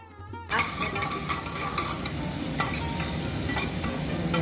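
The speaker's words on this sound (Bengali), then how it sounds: "তারপরে এটাকে একটু নেড়ে চেড়ে নিতে হবে ভালো করে, যাতে এটা ভাজা হয়ে যায়। তো এটা ভাজা হচ্ছে এখানে" Beetroot fries in a hot pan while being stirred, a loud, continuous close-up sizzle with scraping stir noises that kicks in sharply after a quieter opening moment.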